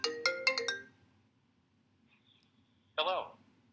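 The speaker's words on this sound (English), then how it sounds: "Looks like there's our phone call." A phone rings with an incoming call: a quick burst of four bright electronic ring tones, then a pause and one more tonal chirp, loud and close over a faint hum.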